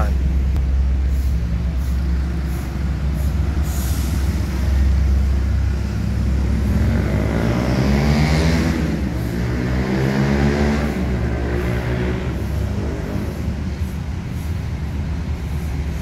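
A fully loaded Hino RN 260 Padang intercity bus drives along the road and accelerates, its engine rising in pitch under steady road noise while people talk over it.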